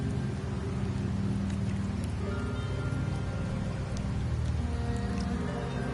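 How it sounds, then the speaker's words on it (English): Steady rain falling in Septimont in Wuthering Waves, a constant dense hiss of drops with a low rumbling wash beneath, even in loudness throughout and with no voices. "The rains in Septimont never seem eager to leave this season."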